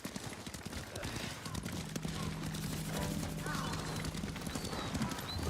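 Horse hooves clip-clop steadily along a path in the video game Ghost of Tsushima, moderately loud under ambient game sound and faint background voices.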